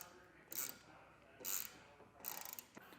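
Ratcheting clicks from a screw being tightened while installing a Front Runner Slimsport platform roof rack, three short bursts of close, quiet mechanical clicking separated by pauses.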